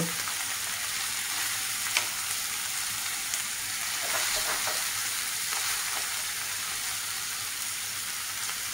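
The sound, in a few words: frying and stirring fish in raw mango curry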